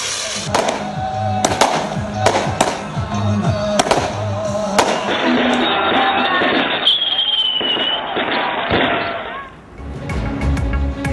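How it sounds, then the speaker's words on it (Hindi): Firecrackers and aerial gunfire ring out across cities during New Year celebrations, a loud, dense run of sharp bangs and crackling bursts, some close and some distant, with faint voices mixed in. "मुख्तलिफ शहरों में हवाई फायरिंग और पटाखों की आवाज से फजा गूंजती रही।"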